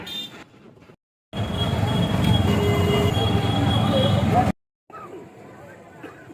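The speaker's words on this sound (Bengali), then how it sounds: "ট্রেন একটা চলছিল দেখলে তো" A train rolls past a pedestrian subway crossing, giving about three seconds of loud, steady rumble and hiss that drops away abruptly, with faint street noise before and after.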